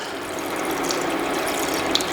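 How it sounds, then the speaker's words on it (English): Broth being poured into a pot of beef chili con carne, a steady continuous liquid splashing and trickling that stays at an even level throughout, with no talking. "So let me pour it. I'm gonna do about 3 cups for now"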